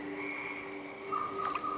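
Frogs or crickets calling at night in a steady chorus of sustained trilling tones, with a brief higher croak-like call joining near the end.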